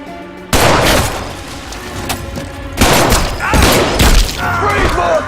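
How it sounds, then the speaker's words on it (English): Action-movie gunfire erupts in loud, close bursts: sharp cracks and booms in quick clusters with shouting voices mixed between the shots. "Shots fired"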